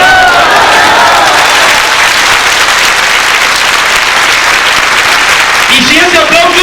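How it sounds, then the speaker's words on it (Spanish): Loud, dense applause from a congregation at a Catholic church retreat, sustained throughout with voices mixed in, easing slightly near the end. "Y si ese aplauso es para Dios"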